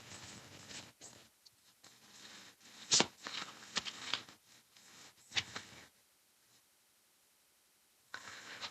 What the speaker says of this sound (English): Let me get 2 cards from this deck for that.